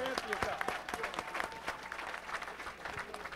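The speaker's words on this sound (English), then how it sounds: "Clap your hands for yourself." Audience clapping hands at a gathering, a fairly faint, continuous patter of many hands with scattered louder claps, a voice speaking faintly over it.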